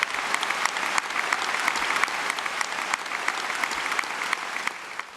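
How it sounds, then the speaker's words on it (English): A crowd at a Labour Party conference applauds a speech, with sustained, dense clapping at a steady level throughout, broad and roomy as in a large hall. "Applause showing that many here had been waiting for that."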